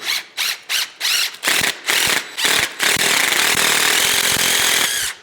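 A power screwdriver drives a screw into a wall anchor for hollow materials such as aerated concrete block, sounding first in several short loud bursts, then in one longer continuous whir before stopping. Nobody speaks.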